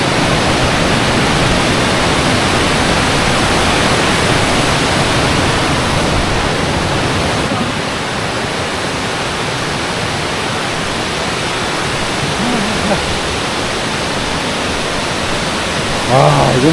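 Guryong Falls on Jirisan mountain, swollen after rain and heard from a nearby bridge, gives a steady, loud broadband roar of rushing water that runs unbroken for the whole stretch.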